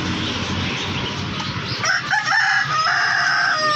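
Rooster crowing loudly and close at a market stall selling chickens and rabbits, a single drawn-out crow rising over a busy crowd murmur.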